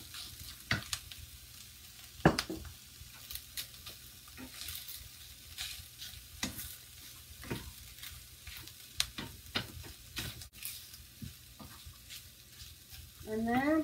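Eggs frying in a wok for chicken fried rice, a quiet sizzle broken by sharp spatula scrapes and clinks at an irregular pace, with no talking.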